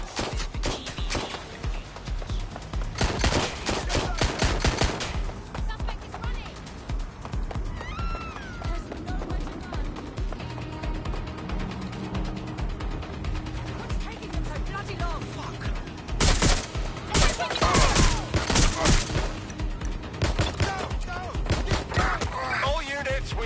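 Bursts of gunfire in the video game Watch Dogs Legion, rapid loud volleys amid running footsteps and busy game noise, with voices talking over parts of it.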